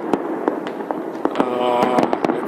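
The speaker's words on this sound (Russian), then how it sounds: "у нас очень любят все эти фейерверки, все взрывы и бабахи" New Year fireworks in Bishkek crack and pop in quick irregular bursts over a continuous crackling roar, some bangs sharp and close, others more distant.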